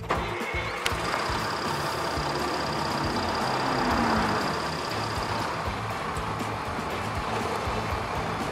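A motor engine starts with a sharp click, then turns over and settles into a low steady hum while a faint tone runs over it, for a cardboard toy bus.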